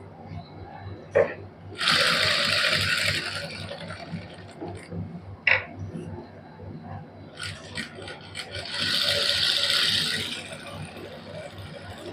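Sewing machine stitching lace onto a garment neckline: two bursts of fast whirring mechanical stitching separated by quieter handling and clicks, close and fairly faint.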